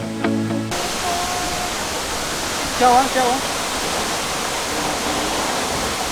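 Himalayan waterfall roaring as a steady broad wash of rushing water, loud and constant throughout, with a person's brief voice and a whistle-like call heard over it.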